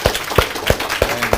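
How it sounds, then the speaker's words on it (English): Audience at a summer school event clapping, a handful of sharp, evenly spaced hand claps sounding close and fairly loud over a short stretch. "So you can clap."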